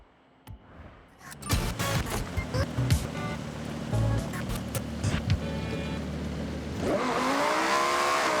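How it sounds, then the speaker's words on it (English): Cars driving in the racing game Forza Horizon, engines humming steadily with scattered thumps and tire noise, ending in a rising, sustained engine whine near the end, with no talk. "Just listen to the car sounds."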